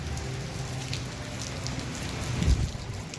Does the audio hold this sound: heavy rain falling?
yes